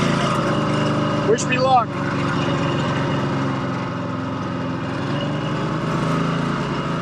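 A 1954 Harley-Davidson FH 750 motorcycle engine running steadily at a low, even rumble up close, with a brief rising whine early on and someone speaking over it.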